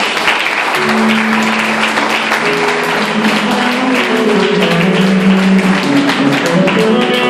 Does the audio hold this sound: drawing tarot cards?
no